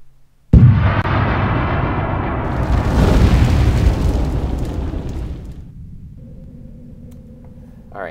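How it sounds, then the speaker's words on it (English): Large explosion in the game Tex Murphy: The Pandora Directive, a sudden loud blast followed by several seconds of heavy roaring rumble that slowly fades, with no voices. "That was a large explosion, friends."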